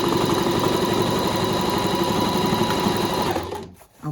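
A sewing machine stitches a washable fabric pandemic mask in a fast, steady mechanical whir with a rapid needle rhythm, running close and loud before stopping abruptly near the end.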